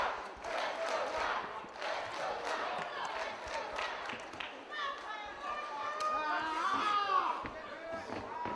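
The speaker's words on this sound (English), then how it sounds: "this crowd trying to get Pac back into it with a "Let's Go Pac" chant" Wrestling crowd at a 1PW show chanting for Pac, rhythmic shouting rising under a commentator's voice, with scattered thuds and louder cheers in the second half.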